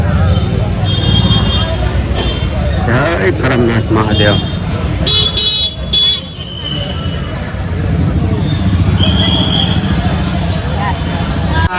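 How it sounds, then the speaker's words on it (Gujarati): Heavy road traffic near the Karmnath Mahadev temple in Surat on Rakshabandhan, with a dense crowd and car horns tooting repeatedly over a steady roar of engines and babble, with someone talking throughout. "ભીડ છે આજની ટ્રાફિક દુનિયાની છે"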